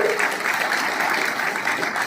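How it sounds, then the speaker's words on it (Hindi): An audience at an honour ceremony for auto and e-rickshaw drivers applauds, a dense even burst of clapping that holds steady for its whole short length. "आदरणीय आयोजक समिति के सदस्य मन करी से जोरदार ताली बजाइए।"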